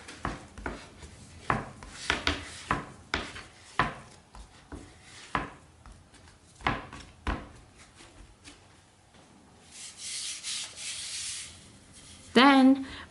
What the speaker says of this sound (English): Now you knead it